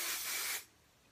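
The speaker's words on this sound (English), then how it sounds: "Put some spray in," A single short hiss of hairspray, about half a second long, close by, then quiet.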